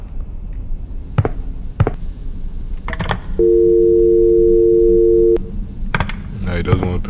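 A telephone busy signal sounds in a horror video game as a steady electronic tone lasting about two seconds. It plays under a speaker's talk, with clicks and tapping before and after it.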